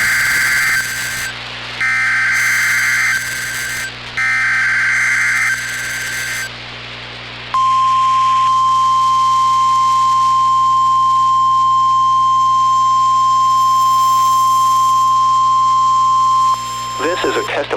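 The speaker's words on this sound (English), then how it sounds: "This is a test of the emergency alert system and Noaa weather radio's warning alarm." A NOAA Weather Radio emergency alert plays: three bursts of harsh buzzing data tones with pauses, then a long, loud, steady single-pitch warning alarm tone holding for about nine seconds before cutting off.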